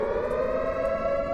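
Warning sirens in the Minecraft Alex's Caves mod wail on a steady, sustained tone, loud and continuous, alerting to an imminent explosion with no voices present.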